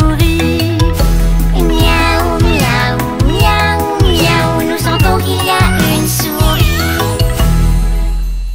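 A kitten's meows are sung into a cheerful French children's nursery song, sounding as melodic cries woven through steady, loud music with bouncing bass and bright instruments throughout.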